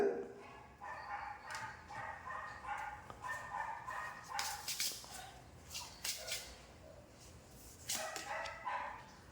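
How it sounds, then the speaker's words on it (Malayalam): A dog barks repeatedly in short bursts, somewhat distant and faint, with irregular pauses between the barks. "പുറത്ത് പട്ടി കുരയ്ക്കുന്ന ഒച്ച കേൾക്കുന്നുണ്ട്."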